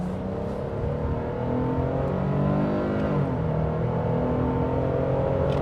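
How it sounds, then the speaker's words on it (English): A 2025 Nissan Frontier Pro-X pickup truck accelerates on a multi-lane road, its engine note rising steadily and loud from inside the cab, with no one speaking. "Partial throttle, and we'll lean into it once we're situated on the gas."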